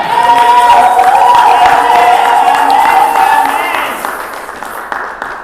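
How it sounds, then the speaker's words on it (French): A church congregation acclaiming and applauding the Lord, loud sustained clapping and cheering with a held tonal note over it, fading gradually toward the end. "Pouvons-nous manifester encore notre joie par des acclamations à l'Éternel?"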